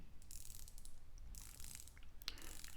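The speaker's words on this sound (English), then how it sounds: "Beautiful bezel action." The rotating dive bezel of a Grand Seiko SLGA001 diver watch clicks in soft, rapid ratcheting bursts, quiet and very close.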